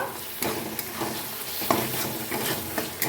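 Tomato and green peas sauté in hot oil for a winter hilsa fish curry, a steady close sizzle broken by a regular rhythm of spatula scrapes and taps against the pan roughly every half second.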